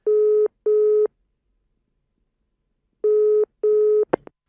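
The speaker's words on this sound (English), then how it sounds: "It's ringing for you now." Four steady telephone ringing-tone bursts in two pairs play on a phone line during an office call, loud and clear, followed by a brief click as the receiver is picked up.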